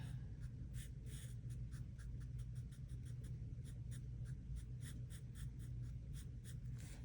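A pen colours in a hand-drawn letter on paper during a dice game, giving a steady run of quick scratching strokes, close and clear, with a low background hum and no voices.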